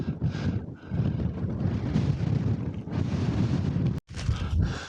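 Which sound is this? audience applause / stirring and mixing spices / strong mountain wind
strong mountain wind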